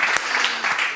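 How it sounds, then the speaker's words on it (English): An audience at an event applauds in a brief burst of clapping, about a second long, steady and moderately loud. "round of applause for José Miquel."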